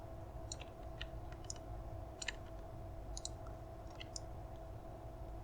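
Computer mouse clicking while editing 3D hair on a character model, about a dozen faint, sharp clicks at irregular intervals over a steady low computer hum, no talk.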